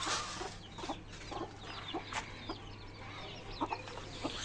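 Newly hatched chicks in a home aviary of pet birds give a scatter of short, faint chirps and peeps against a low steady hum, spaced irregularly with no voices.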